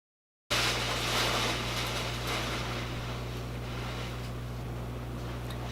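Heavy rain pours steadily outside, a constant broadband hiss heard from indoors over a low steady hum, holding an even level throughout with no voices.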